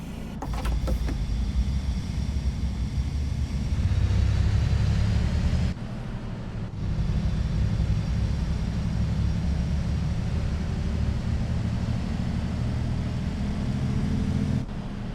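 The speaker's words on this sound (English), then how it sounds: "This sounds more like a freight engine. A train locomotive." Bus engine in a bus simulator game, deep and locomotive-like: a loud, steady low diesel drone that briefly rises, cuts out around the middle and then resumes, with no talk.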